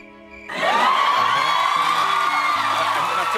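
An audience suddenly erupts into cheering, whoops and clapping after a quiet moment, a loud sustained wave of crowd noise that holds steady to the end.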